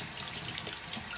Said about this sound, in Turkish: Ucunu böyle elimle kendim temizleye temizleye yıkıyorum.